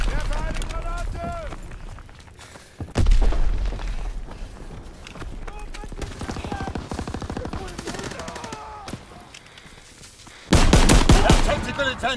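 Gunfire rattles in the WWII Beta shooter game, with loud bursts of rapid shots and heavier blasts in clusters. Someone talks over much of the shooting.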